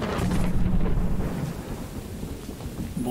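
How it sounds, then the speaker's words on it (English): Thunder rumbles in the Choo Choo Charles video game, a loud, rolling, sustained roar over steady rain that fades slightly toward the end. "they got that lightning in it, the thunder on point"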